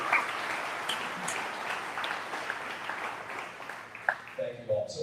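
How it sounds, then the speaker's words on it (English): A crowd at a commercial realtors' association gathering gives a group a round of applause, steady moderately loud clapping that tapers toward the end as a voice begins. "let's give this group a big round of applause"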